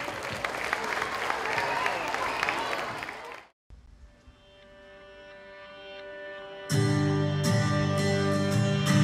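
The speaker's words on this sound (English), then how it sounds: "Please give a big round of applause for the group coming up." Audience applause for a group about to perform at a school teachers' tribute event, a dense burst of many hands clapping that stops abruptly, followed by quiet music and then louder instrumental music starting up.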